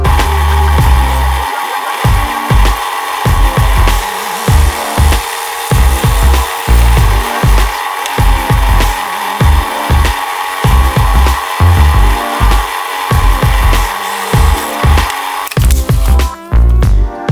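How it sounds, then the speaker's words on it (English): A regular power drill bores into a broken skateboard deck in repeated short bursts, each spin cut off by a brief pause, loud and close, with no talking. "you can most definitely use your regular drill for this"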